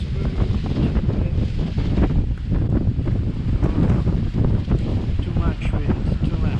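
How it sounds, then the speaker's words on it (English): Strong wind buffets the microphone at a radio-controlled IOM model yacht regatta on Lake Maggiore at Belgirate, a steady loud roar filling the whole clip with a few brief voices underneath. "Too much wind, too much."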